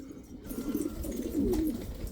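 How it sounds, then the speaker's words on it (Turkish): Domestic pigeons in a loft give soft, low cooing, a couple of burbling calls close by over faint background rustle. No one speaks. "Ama olsun güvercinler uçuyorlar."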